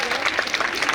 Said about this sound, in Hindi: जोरदार तालियों से इस्तकबाल करिए